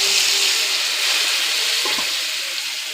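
Boiled chana dal dropped into a hot pan with oil, cashews and raisins, producing a loud, dense, continuous sizzle up close that fades slightly toward the end, with a brief clatter partway through.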